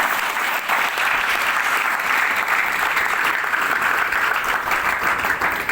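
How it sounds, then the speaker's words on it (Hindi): A large audience at a business gathering in Virar claps vigorously for the organizers, a dense, even roar of hands holding steady throughout without letting up. "आप सभी लोगों के लिए एक जोरदार तालियां होनी चाहिए"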